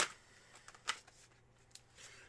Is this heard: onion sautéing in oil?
no